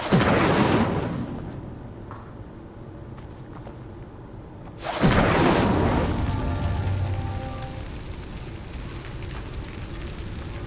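In a game, the Incendio fire spell lights pyres with a whooshing burst of flame, then a second loud ignition halfway through that settles into a crackling, rumbling burn.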